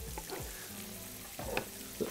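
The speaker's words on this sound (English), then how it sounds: "The onion's almost caramelizing." Onions fry in a pan for a dum biryani, a steady sizzle broken by a few scraping stirs of a spoon against the pan, close and moderately loud with no talking.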